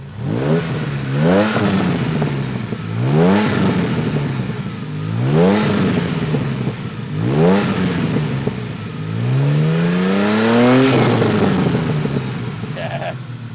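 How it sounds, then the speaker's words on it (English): Repeated revs of a restored 30-year-old DeLorean engine, five or so rising blips that drop back with popping and crackling on the overrun, loud and close. "I love how it pops and cracks when it comes down off compression."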